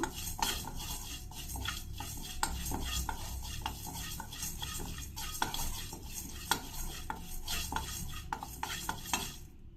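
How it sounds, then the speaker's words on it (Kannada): Chana dal and urad dal frying in oil in a pan, a soft sizzle beneath repeated scraping and stirring clinks from a spoon, close and fairly even in rhythm. "ಕಡಲೆಬೇಳೆ ಮತ್ತು ಉದ್ದಿನಬೇಳೆ ಎರಡು ಸ್ವಲ್ಪ ಚೆನ್ನಾಗಿ ಫ್ರೈ ಆಗಿದೆ ನೋಡಿ"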